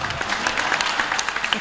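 Applause from an audience at an Indonesian PPP political talk, a steady wash of clapping with crowd noise, lasting under two seconds.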